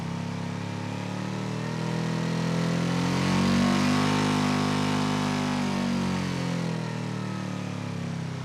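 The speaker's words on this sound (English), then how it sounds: "Now we let it warm up so we can rev it safely to a higher RPM." A revived $500 motorcycle engine idles steadily while warming up, a continuous droning hum that swells slightly in the middle and stays even throughout, close by with no voices.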